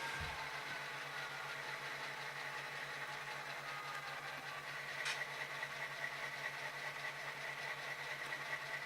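A Tsunami sound decoder in a custom-weathered P2K HO-scale EMD diesel, a GP18 or GP10, idles with a faint, steady low hum and a soft mechanical rumble that continues unchanged throughout.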